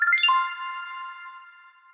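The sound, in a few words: phone ringing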